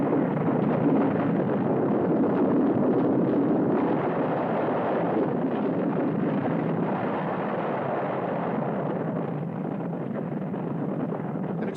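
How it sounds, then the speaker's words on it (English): A mountain erupts in a Korean monster film with a continuous, heavy roaring rumble, dense and loud, holding steady throughout with no pauses or voices. "An explosion at high altitude. The mountain is going to blow up."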